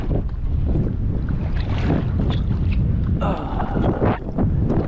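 Wind buffets a small solo skiff out on the water, wind running against the tide, making a loud, close, continuous rushing roar with gusty swells and no talking.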